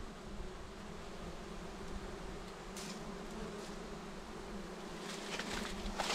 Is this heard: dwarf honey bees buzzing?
yes